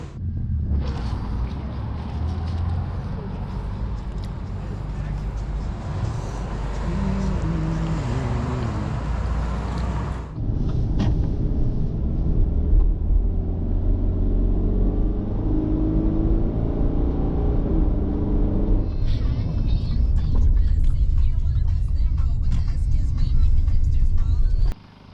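A car drives along a road on the way to Woss Lake Campground, its engine and tyre rumble steady and close with wind buffeting throughout, and a voice speaks briefly near the start.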